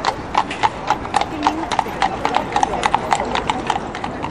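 Horse hooves clip-clop in a quick steady rhythm on city pavement in Dresden as a carriage passes, moderately close, with people talking in the background.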